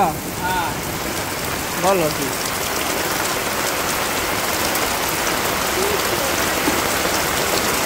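Heavy, continuous rain pours down in a Bangladesh village during the rainy season, a constant close hiss while a person speaks briefly over it early on.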